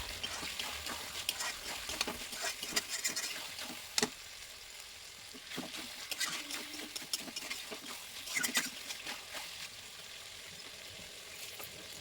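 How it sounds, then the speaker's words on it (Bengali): Chicken with spices being stirred and sautéed in a pan gives a soft, steady sizzle. Irregular scraping and clattering stir strokes sit close and moderately loud over it, with no talk. "এবার এটাকে বেশ ভালো করে কষাতে হবে, সুন্দর করে কষিয়ে নিতে হবে"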